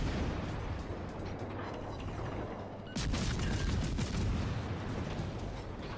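Heavy naval guns fire during a World of Warships battle, a dense rumbling barrage that jumps to a louder, sharper burst midway and rolls on continuously.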